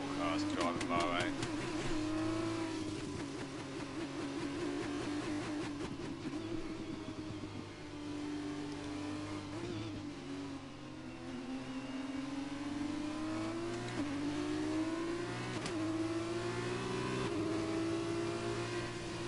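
Race cars roar around the Bahrain circuit in an F2 racing video game, engines revving and rising in pitch through gear changes, a steady loud rumble throughout with a person talking over it.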